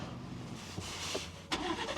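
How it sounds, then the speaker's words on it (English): A car engine cranks and catches in a supermarket parking lot at night, a short burst of starter noise and rumble close by, with no talk over it. "get the car started."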